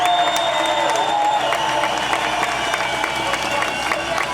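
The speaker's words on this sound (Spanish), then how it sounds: "para quienes pido un gran aplauso en esta plaza" A large crowd in an open-air public plaza at a political rally in Medellín applauds and cheers loudly and steadily, a dense wash of clapping and shouts with no clear break.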